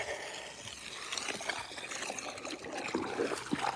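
Water runs steadily nearby as a container is rinsed and filled beside a large barrel at a plant nursery, with a soft, continuous trickling splash.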